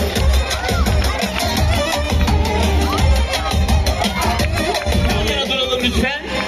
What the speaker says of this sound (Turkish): Alkışlarla öğretmenimizi alıyoruz.